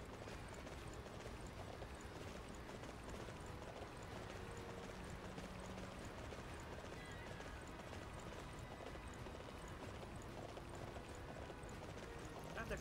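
Horse hooves clip-clop steadily in the Dynasty Warriors 9 video game, a quiet continuous gallop mixed with game ambience throughout.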